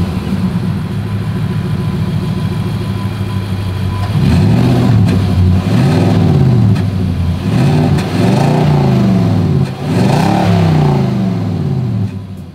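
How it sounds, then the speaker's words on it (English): A 2023 Nissan Titan PRO-4X pickup's exhaust idles, then revs up several times in a row, each rise and fall loud and close, with no talking. "As always, here is that exhaust clip."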